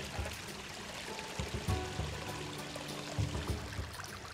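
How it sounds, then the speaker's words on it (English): Moving water of various depths in a habitat for Asian small-clawed otters, a continuous rushing, pouring flow with a broad steady hiss and occasional low gurgles, heard alone. "It's got some great moving water of various depths"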